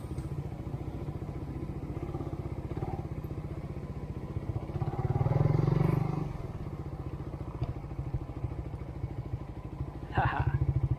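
A Raider FI motorcycle is wheeled across sand at a beach, with low idling engine rumble and occasional clatter and thumps as it is moved, fairly quiet throughout.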